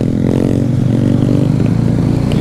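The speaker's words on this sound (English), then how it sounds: "bike has spit some fireball" A motorcycle engine revs hard and loud with a rough, crackling exhaust on a Jamaican road ride, with a steady throaty roar throughout and no voices.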